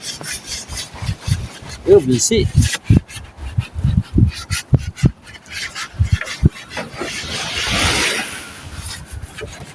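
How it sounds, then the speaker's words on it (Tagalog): A wooden boat is sanded by hand, with repeated rough rubbing strokes in an irregular rhythm, close by, mixed with a brief spoken word and other workshop noises. "Ito pala may bangka naga-liha."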